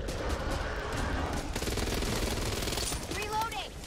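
Gunfire in the Back 4 Blood zombie shooter, rapid bursts of shots running dense and loud through most of the clip, with people talking over the action.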